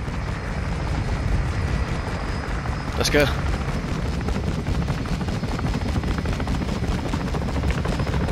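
Helicopter rotors thrum loudly and continuously in Modern Warfare 2 Spec Ops co-op, a dense, pulsing drone with scattered gunfire beneath it, while a voice speaks briefly over the noise.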